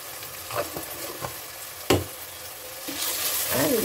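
Tomatoes sauté in a pan for Chettinad mutton masala, a steady close sizzle with a few stirring scrapes and one sharp knock, the frying swelling louder toward the end.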